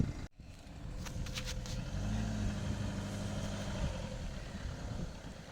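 A caravan's vehicle engine idles steadily nearby, a low continuous rumble, with a brief clunk near the start.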